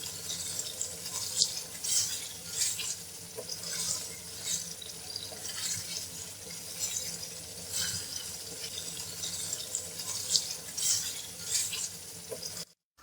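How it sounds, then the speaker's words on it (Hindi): Water is poured into a pan of frying potato curry masala to start a gravy, giving a steady close splashing and sizzling stream that runs unbroken for several seconds before stopping abruptly. "अब हम इसमें ग्रेवी बनाने के लिए पानी ऐड करेंगे।"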